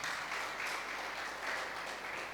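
A church congregation clapping loudly at a sermon, continuous dense clapping with slight surges, filling the whole stretch without speech.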